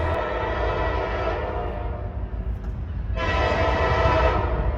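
A northbound freight train approaches at a railfanning spot in Erlanger, its horn sounding in long sustained blasts over a steady rumble, with a second loud blast starting near the end.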